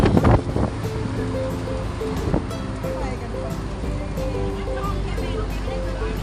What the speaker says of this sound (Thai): ลมแรงจริงอ่ะ